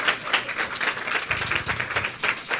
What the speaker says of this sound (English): I want to just give you guys a little round of applause